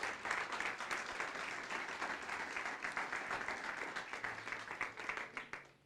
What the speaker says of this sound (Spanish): Dele ese aplauso al Rey de Gloria.